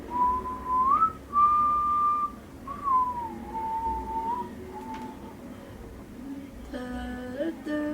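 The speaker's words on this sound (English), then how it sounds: "I want to try to whistle, but I don't know if I can whistle." Someone whistles a short melody, clear sustained notes with slides between them, a few pauses, and a brief burst of other sound near the end.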